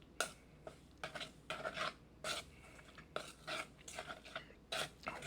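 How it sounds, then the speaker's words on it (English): A lamb and cilantro wonton filling being stirred in a bowl: rhythmic rasping, scraping strokes that repeat roughly every half second, close and fairly quiet, with no talking. "I'm gonna mix it up first before we mix in the other stuff"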